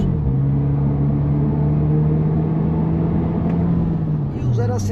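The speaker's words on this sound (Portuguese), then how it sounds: "Vamos fazer a largadinha estolada. Freio, acelerador saindo, aí já não canta tanto o pneu" A Fiat Fastback Abarth makes a launch start, its engine holding a loud, steady droning note close by for several seconds before the pitch drops near the end.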